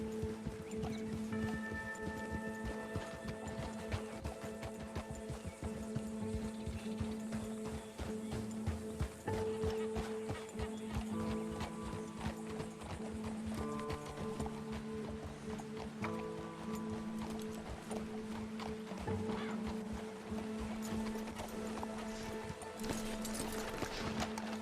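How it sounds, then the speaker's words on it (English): Horse hooves clip-clop steadily through a Red Dead Redemption 2 mission, the rhythmic beats running under a constant bed of game music and ambience. "Control your horse, Arthur"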